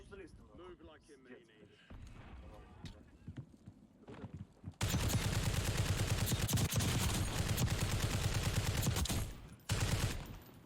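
Rapid, dense video game gunfire erupts after a few quiet seconds of softer clatter, sustained and loud, then breaks off briefly before one more burst.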